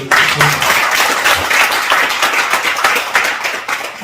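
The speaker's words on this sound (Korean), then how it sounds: "박수 한번 해주세요" Seated audience at a senior mission school lecture in a church hall clapping together, a loud, even burst of many hands that tapers slightly toward the end.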